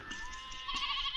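Sheep bleating while being herded along a road, a few overlapping nasal bleats over a steady outdoor background, fairly close and moderately loud with no talk.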